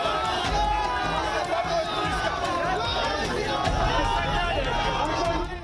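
A dense, loud crowd packs Amit Shah's road show, with continuous overlapping chatter and cheering voices forming a constant roar from start to finish.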